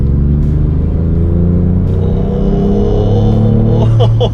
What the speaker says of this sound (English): press on the exhaust button on the steering wheel, you get quiet, you get normal, you get sport, and the loudest mode,